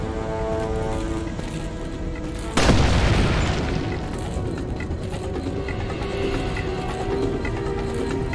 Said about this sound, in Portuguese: Ah, não, granada.